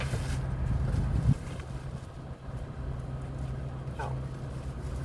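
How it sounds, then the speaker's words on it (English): Wind blows outdoors as a steady low rumble buffeting the microphone, with a louder gust early on that then settles into a constant moderate roar; no talking. "Of course, the wind is blowing right now"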